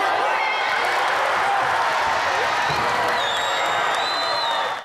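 A wrestling crowd at an indoor sports palace roars and cheers steadily after a throw, a dense, sustained wash of voices with a few whistles that cuts off abruptly at the end.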